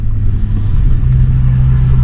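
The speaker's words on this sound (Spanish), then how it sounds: "ahí ya vuelve a acelerar y el carro responde" An automatic car accelerates in drive, its engine giving a loud, close, deep rumble that holds steady and rises slightly in tone over two seconds, with no talking.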